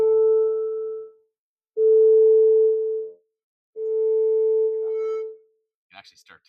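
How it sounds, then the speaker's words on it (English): 440 hertz sine tones played from speakers, three steady pure beeps of about one and a half seconds each separated by short gaps, followed by a brief voice. "it plays 440 hertz frequency tones from each one"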